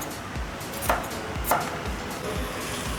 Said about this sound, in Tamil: இதோட அவுட்லைன் ஃபுல்லாக நம்ம குட்டி குட்டி கட் மார்க் போட்டு எடுத்துக்கலாம்